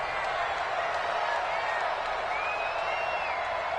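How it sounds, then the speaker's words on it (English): A stadium crowd cheers in an American football video game ahead of a big third down, a dense continuous roar with faint whistles, steady and loud throughout. "the crowd getting into it as we come up on a big 3rd down"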